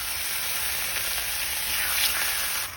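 Bacon sizzling on the Everdure Furnace grill, a close, steady hissing sizzle with faint crackles that holds constant and eases slightly at the very end.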